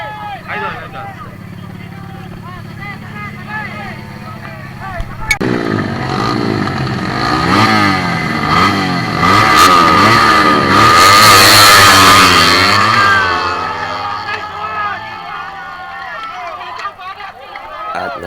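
Up close, a drag-racing motorcycle fires up at a street drag race exhibition and revs hard, its engine climbing to a loud, sustained roar before settling back, while a crowd and an announcer's voice carry under it.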